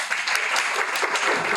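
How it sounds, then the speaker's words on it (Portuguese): Brief applause at a climate change forum meeting after a presentation, a moderate burst of many hands clapping steadily with no voices. "uma salva de palmas"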